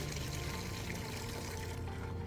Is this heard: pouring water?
yes